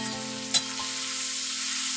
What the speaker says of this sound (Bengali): তারপরে দিয়ে দেবো পেঁয়াজ কুচি, দিয়ে ভালো করে ভেজে নেব লাল লাল করে।